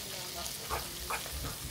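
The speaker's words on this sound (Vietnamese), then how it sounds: "Cái mùi cá cơm chiên lên thơm phức hả mọi người." Small anchovies, with a little shallot added, fry in a pan in a Kenyan home kitchen, giving a steady low sizzle and hiss with a few soft stirring scrapes.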